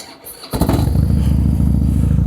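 A motorcycle engine cranks and catches after a brief pause, then settles into a loud, steady, throbbing idle close by.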